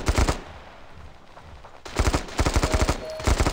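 Rapid bursts of gunfire from the mobile shooter game Standoff 2, a short volley at the start, a quiet pause, then sustained loud automatic fire with a faint tone near the end.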